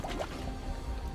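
Lava bubbling on a Magic: The Gathering D&D video game map: a quiet, steady liquid gurgle with soft drips and pops, heard alone for about a second.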